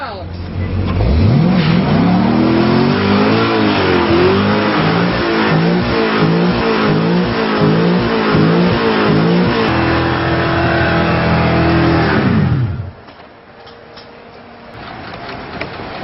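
A Shelby GT350R engine revving hard during a burnout, a loud, close, sustained roar that surges and wavers for about twelve seconds before cutting off to a quieter idle.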